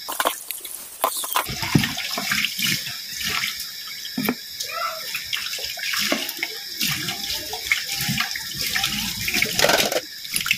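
Food being washed under a running kitchen tap in a sink, a steady close rush and splash of water with small clatters throughout, no voices.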